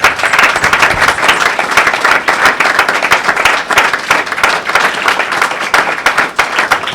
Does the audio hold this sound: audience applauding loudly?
yes